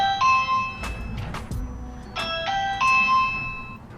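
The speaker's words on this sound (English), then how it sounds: "So let's knock, or rather ring the bell." A house doorbell rings twice with a bright two-tone ding-dong chime, clear and close, with a brief clatter between the rings and no talking.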